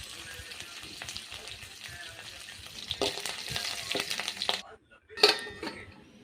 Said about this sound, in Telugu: తాలింపు అయితే రెడీ అయిపోయింది. దీన్ని మనం పప్పులో తిరగబోసేసుకుందాం